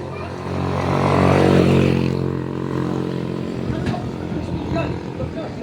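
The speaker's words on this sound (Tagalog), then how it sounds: "Oh, may tricycle." A tricycle passes along a road with a loud, rumbling engine that swells to its peak about a second in and then fades as it moves off, while people talk nearby.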